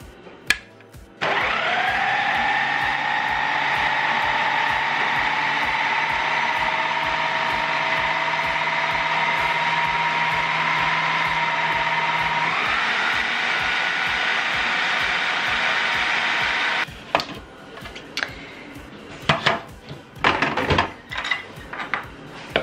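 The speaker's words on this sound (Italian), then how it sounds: "Allora adesso andiamo a frullare, dopodiché vediamo quanto pane aggiungere." Blender whirring through a tomato stuffing mixture with garlic, a loud steady motor whine that starts abruptly, shifts pitch partway through, then cuts off, leaving scattered kitchen clatter and clicks.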